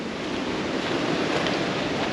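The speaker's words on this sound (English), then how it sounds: "let's go inside because it's windy" Strong wind rushing and buffeting against the microphone beside a motorhome, a constant roaring hiss with no voices.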